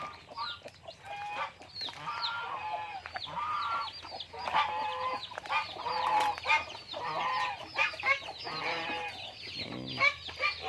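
Chickens cluck and squawk continuously on a small farm where ducks and geese are also kept, with a scattered chorus of birds at close to mid range, fairly quiet overall.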